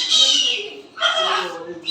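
Caged pet birds in a shopping mall let out two loud, close, harsh squawking calls, one after the other.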